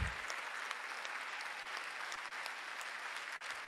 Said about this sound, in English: So we want a very resounding applause for them.